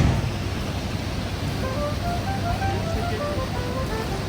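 Steady rushing roar of Manavgat Waterfall in Antalya, Turkey, dense and unbroken throughout, with no voices.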